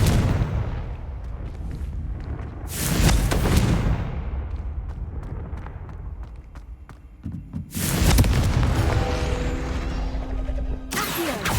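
Explosive spell blasts in the video game Hogwarts Legacy, loud booming bursts with crashing debris, several heavy impacts spread across the stretch amid a continuous rumbling game soundscape.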